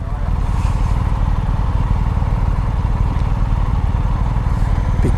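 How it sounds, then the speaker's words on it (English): A big BMW 1250 RT motorcycle rumbles close by with a loud, steady low engine drone that holds evenly throughout, heard from another bike on the road. "Big BMW 1250 RT. Massive bike, massive bike."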